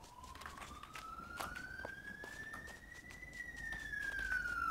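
An ambulance siren in the horror game In Silence sounds as a single faint, far-off tone that slowly rises and then falls again, with light clicks and rustling around it.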